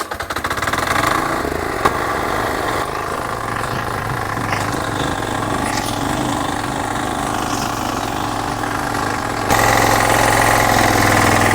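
A VMA 13 hp diesel walk-behind tractor runs steadily nearby, a loud chugging engine drone that holds constant and grows slightly louder near the end.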